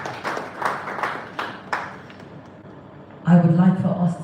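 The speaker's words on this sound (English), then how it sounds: "Round of applause for yourselves." Audience applause at a live gathering, a patter of clapping under a speaking voice that swells into louder applause near the end.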